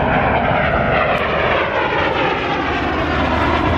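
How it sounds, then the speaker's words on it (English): An Impala jet trainer aircraft approaches and flies past at about 250 knots, its loud, steady jet roar filling the whole stretch with no talk over it. "See the Impala approaching from the northern side over there, and about 250 knots now."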